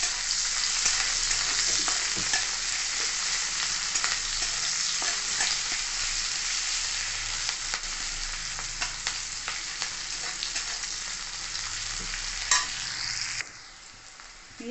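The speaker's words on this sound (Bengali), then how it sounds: "এবার ভালো করে আমি ভেজে নেব।" Chopped onions frying in a pan for a Bengali rui posto (rohu fish with poppy seed) recipe: a loud, continuous crackling sizzle with scattered pops that runs for most of the clip, then briefly drops lower near the end.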